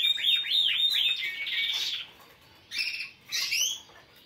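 Caged birds chirp close by in rapid, bright bursts, a run of quick tweets followed by a pause and then two more short flurries.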